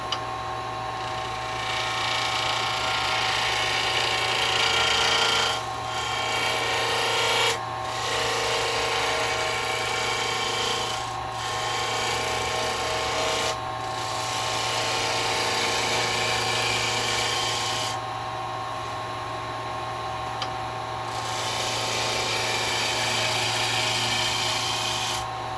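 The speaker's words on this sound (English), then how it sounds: "I'm just going to use a roughing gouge, because the spindle's all going that way" Roughing gouge cutting a wood spindle on a lathe while turning a Japanese birdhouse: a steady, loud scraping hiss over the constant hum of the machine, lasting about 25 seconds with a few short breaks in the cut and no talking.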